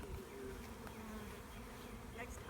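A dense swarm of honeybees forming a bee beard buzzes continuously and close by, a steady, quiet drone with no break and no talking.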